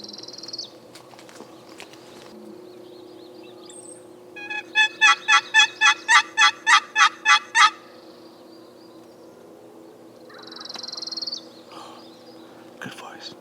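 A wild turkey gobbles at a distance in open range with a rapid rattling burst of about a dozen notes, over steady insect hum and faint hunter calls before and after.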